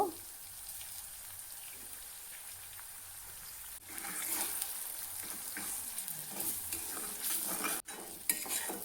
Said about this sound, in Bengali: দিয়ে এখন ডিমগুলো আমি ঝুরি করে নিব।